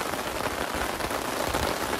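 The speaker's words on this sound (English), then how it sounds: "now it's raining pretty hard." Heavy rain pelting a tent at a wilderness campsite, a dense, continuous hiss of drops drumming on fabric, close and loud with no letup.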